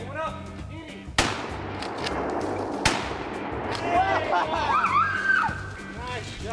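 A hunting gun is fired at a squirrel in woods: two sharp cracks about a second and a half apart over steady low rumble, with people talking and exclaiming around them.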